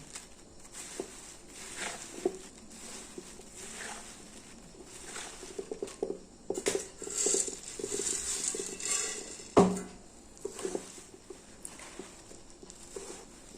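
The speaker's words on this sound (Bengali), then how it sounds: "এবার খুন্তি দিয়ে আস্তে আস্তে গুড় মিশিয়ে দেবো খইয়ের গায়ে" A spatula stirring puffed rice coated with jaggery in a wok: intermittent scraping, rustling and soft metallic clinks in uneven bursts, with one sharper knock near the middle, close by and without talk.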